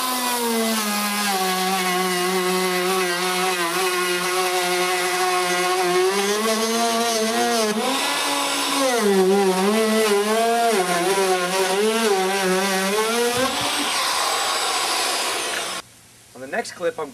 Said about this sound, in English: When you cut with this router, chips are going to go everywhere.